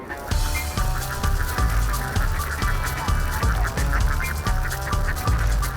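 Many Tegal ducks quack together in a loud, continuous chorus, overlapping calls repeating rapidly and close by, with no voices.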